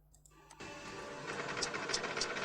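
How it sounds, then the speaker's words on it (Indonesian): An engine's valve mechanism starts up and settles at low rpm into a steady, close mechanical clatter with rapid rhythmic ticking and faint regular higher clicks, no voices. "ketika mesin dihidupkan ya, keadaan pada ruang mekanisme katup adalah seperti yang tertampil pada video ini. Nah, ini masih di putaran yang tergolong masih rendah ya"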